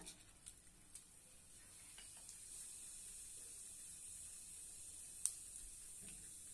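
Cumin seeds dropped into hot oil sizzle with a steady, soft frying hiss, close by and fairly quiet, with a few small pops and clicks, during preparation of a spicy garlic thecha.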